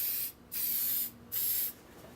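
Spray paint hissing from an aerosol can in three short bursts separated by brief pauses, close and steady, with no talking.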